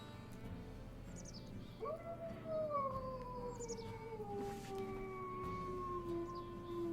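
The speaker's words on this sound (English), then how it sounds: "a little bit of a higher pitched howl" A wolf in the WolfQuest video game lets out a single long, higher-pitched howl that rises sharply, then slides slowly downward and holds. Faint bird chirps and a low ambient hum sit in the background.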